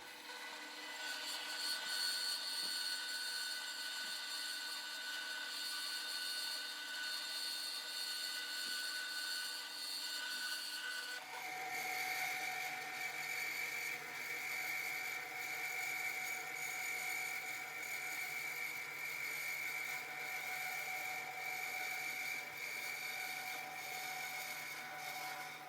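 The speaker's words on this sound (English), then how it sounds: "cut this centerpiece out of here on the saw" A power saw cuts the centerpiece out of a counterweighted crankshaft in the shop, a steady loud whining grind that shifts to a higher, harsher pitch partway through as the blade bites deeper, running continuously without talk.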